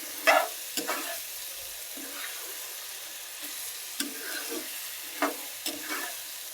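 Ash gourd with dried shrimp fries quietly in a generous amount of oil, a low hiss broken by scattered scraping strokes of a spatula against the pan, close but faint.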